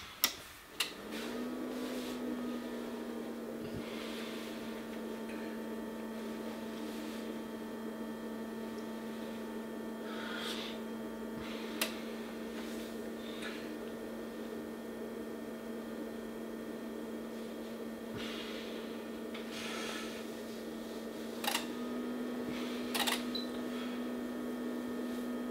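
A Tektronix AFG31052 arbitrary function generator powers up and boots: a steady electrical hum starts right after switch-on and holds throughout, with faint ticks and clicks scattered across it in a quiet room.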